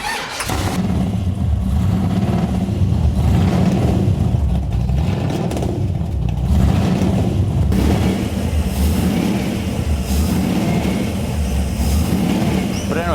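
Car fitted with a replacement for its original Cadillac engine, a loud close engine rumbling and revving steadily throughout, with a deep throaty tone that rises and falls slightly.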